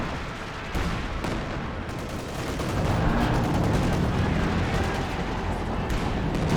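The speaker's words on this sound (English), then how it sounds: "land mattress counter barraging the land mattress" A Land Mattress rocket artillery barrage in the Company of Heroes 2 game rumbles on as dense, overlapping booms and crackling blasts, a loud continuous battle din that thickens midway.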